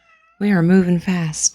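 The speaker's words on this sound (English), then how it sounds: "I don't know if you can hear him meowing." A male cat meows in the morning, a couple of drawn-out, close cries heard alongside a person speaking.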